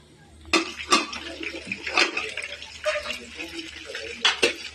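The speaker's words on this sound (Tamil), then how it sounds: "இந்தமாரி கலக்கி ஒரு கிண்ணத்தில் எடுத்து வச்சுக்கோங்க" Dosa batter being beaten in a bowl: a few distinct clinks and scraping knocks of a utensil against the bowl, irregular and close, over a quiet kitchen background.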